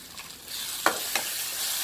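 Spice powders being stirred into masala in a pan, a faint sizzle broken by two quick scraping strokes, close and brief, with no talking.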